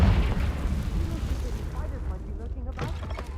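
A Confringo blasting spell erupts in a Harry Potter video game, a loud booming explosion that rumbles and fades over a few seconds, with a voice calling out the spell name.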